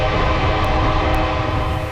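Coastal Classic passenger train in Seward, Alaska, a loud continuous rumble with a steady droning tone, without voices, easing slightly at the end.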